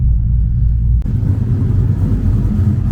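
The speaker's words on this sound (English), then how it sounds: "Just look how that truck sounds." A tuned Chevrolet Silverado pickup idles at a car wash, its engine giving a deep, steady low rumble, loud and close, with one brief dip in the sound about a second in before the even idle resumes.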